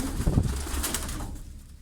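Pigeons cooing: a brief, soft, close coo over a low background hum, lasting under two seconds.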